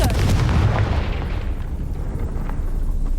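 A Confringo blast spell in Hogwarts Legacy: a loud, booming fiery explosion burst at the start that decays into a rumbling, crackling tail over a few seconds.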